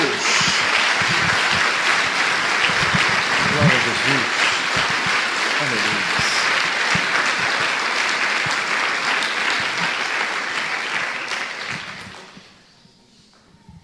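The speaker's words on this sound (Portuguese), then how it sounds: "Dê uma salva de palmas ao nosso Deus." Church congregation giving a round of applause to God during a service, a sustained, dense wash of clapping over continuous voices and exclamations, fading out near the end.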